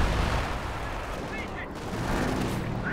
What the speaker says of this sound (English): Enemy howitzer takes counter barrage aim.